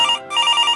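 A telephone rings at a police station, a bright, steady electronic trill that dips for a moment and then resumes, loud and close with no voices.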